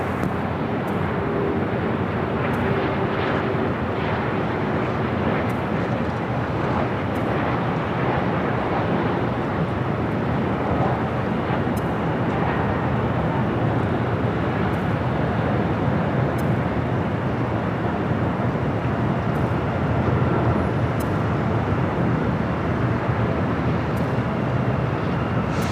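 An Alaska Airlines jet lands on runway 24 right at Los Angeles airport, a continuous broad roar of engines and rushing air that holds steady and loud throughout, with no voices.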